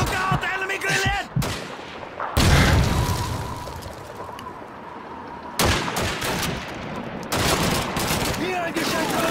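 Call of Duty 2 Stalingrad street battle with gunfire, booming explosions and an enemy grenade blast, dense overlapping shots and rumbling bursts, with shouted voices in places.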